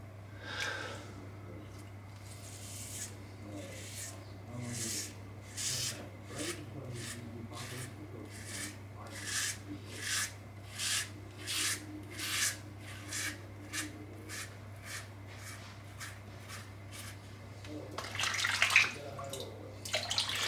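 A Bic Flex razor shaves a lathered head in a long series of short, close scraping strokes at a steady rhythm over a constant low hum, with running water and some rustling near the end.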